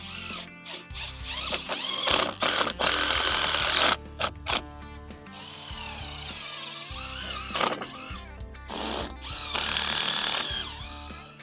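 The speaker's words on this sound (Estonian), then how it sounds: "ma ei tea, kas viivaplokki siia sisse saab kruvi lasta küll" A power tool drives a screw into a block during work setting stones under posts, heard as repeated loud bursts of whirring and ratcheting separated by short pauses, close by.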